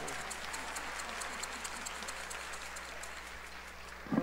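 Audience applause at a tribute concert, a steady, moderately distant patter of many hands clapping that holds evenly throughout, with a brief voice at the very end.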